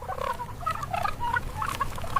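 Farm-raised turkeys gobbling, a series of short warbling calls from several birds, moderately close, over a low rumbling background.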